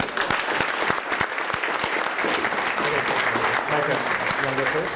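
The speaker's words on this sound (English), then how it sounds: "One more round of applause for Karen." An audience at a chamber of commerce annual awards breakfast claps in a full, steady round, with a few sharp close claps standing out and voices talking underneath as it tapers.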